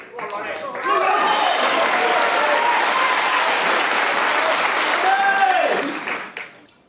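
A capacity crowd of snooker fans at Manchester Central applauds as a best-of-19-frame match gets underway, with sustained dense clapping for several seconds that fades at the end, under a commentator's voice.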